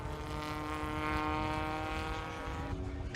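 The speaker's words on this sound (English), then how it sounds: "Climax engine, I think, in that car." A historic 750 Formula race car with a Coventry Climax light alloy engine drives past at Anglesey, its steady buzzing engine note holding loud and nearly constant before a slight shift near the end.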